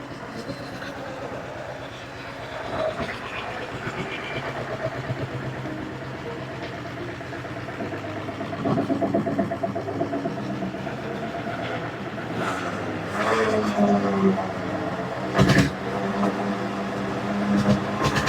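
A 1976 diesel Bullet motorcycle drones steadily while out on a ride, with a continuous low rumble and wind noise. Occasional louder knocks and bumps rise above the running engine.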